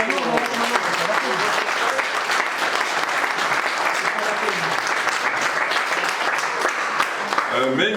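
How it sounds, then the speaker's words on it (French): Sustained, loud applause from a conference audience at a talk about lynx, dense clapping throughout with a few voices near the end. "Bon, pour avancer, on va applaudir Stéphane."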